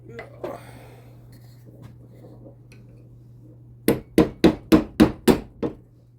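Faint handling noise, then seven sharp, evenly spaced hammer blows ring out loudly on the metal housing of a Red Lion pump in a quick steady rhythm.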